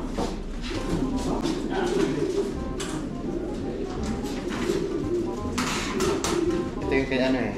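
Racing pigeons cooing at a loft during club training, repeated low throaty coos close by, mixed with people chatting in the background.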